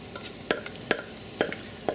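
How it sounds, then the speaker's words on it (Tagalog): Sticky rice stirred with coconut milk, sugar and ube powder for ube biko: four thick scraping spoon strokes at an even pace over a faint low sizzle, close by. "hahaluin lang natin to hanggang sa completely na nating maluto itong ating biko"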